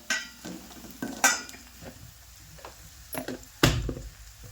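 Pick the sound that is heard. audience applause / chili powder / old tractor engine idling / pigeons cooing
chili powder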